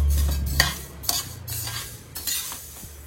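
Roasting in ghee in a pan for nei urundai: a soft sizzle under a low hum, broken by three or four sharp scrapes of a spatula across the pan.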